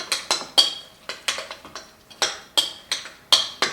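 Salsa ingredients seasoned with salt are stirred in a bowl, giving a series of sharp, close clinks and scrapes of a utensil against the dish in an uneven rhythm, with no talking.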